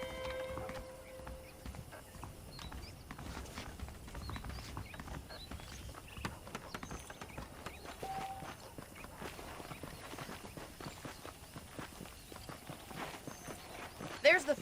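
Horse hooves clip-clopping in the Red Dead Redemption game, a steady rhythmic walking gait on the ground, fairly faint, with low ambient background throughout.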